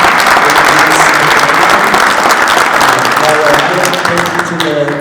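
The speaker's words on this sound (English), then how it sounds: "Let's give a round of applause to the commissioners" An audience applauds the commissioners at a nuclear technology event, dense loud clapping from many hands sustained throughout and easing slightly toward the end, with faint voices mixed in.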